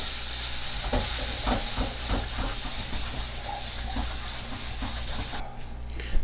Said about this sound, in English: And wash the wok.